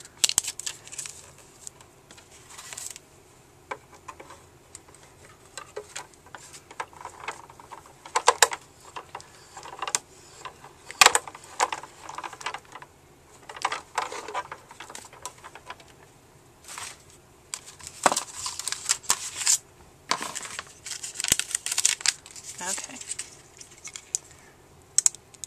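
A panel being cut in a grid pattern for DIY cover plates, heard as scattered sharp clicks, taps and scraping bursts coming in irregular clusters, close and fairly quiet with pauses between cuts.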